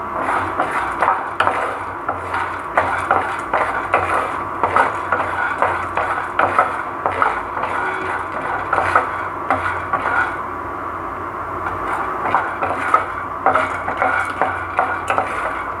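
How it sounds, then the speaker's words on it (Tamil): Peanuts being dry roasted in a pan for chutney make repeated scraping, stirring and clinking sounds as a spatula moves them. The rhythm is steady and close, with no talk. "இது வந்து வறுத்த வேர்க்கடலை தான் அதனால் லைட்டாக வறுத்துக்கிட்டிங்கன்னா போதும்"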